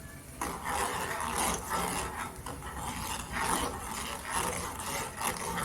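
A spoon stirs jaggery tea as it boils in a pot on a gas stove. The scraping and rubbing is steady and continuous and fairly quiet, with a rhythmic rasp throughout.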